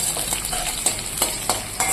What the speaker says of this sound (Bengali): এবার আমি আলু আর বেগুনটাকে হালকা ভেজে নেব